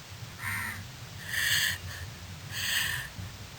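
A crow caws several times at moderate distance, harsh calls spaced about a second apart, over a steady low background hum.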